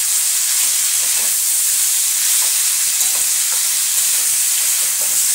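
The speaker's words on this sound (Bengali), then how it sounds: "স্টিম করে ঢাকা দিয়ে আলুটাকে একটু ভেজে নেব।" Potatoes fry in a covered pan with steam and a pinch of salt, giving a loud, steady sizzling hiss that runs throughout, with faint scattered stirring clicks underneath.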